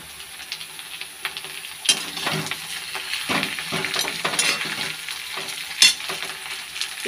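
A fish head fries in hot oil with onion and dried red chilli. The sizzle is loud and close, with repeated scraping stirs and light utensil clatter running throughout, and nobody speaks.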